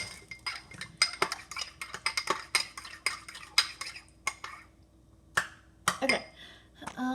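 A utensil stirs slime in a bowl, with repeated quick clinks and taps against the bowl coming in uneven bursts, close and fairly quiet.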